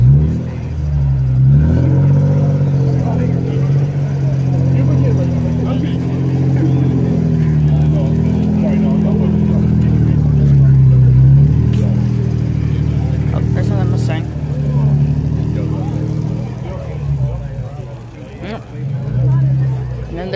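A Corvette engine at a car show throbs loudly in low, wavering rev swells that rise and fall over about twenty seconds, with background chatter from people nearby.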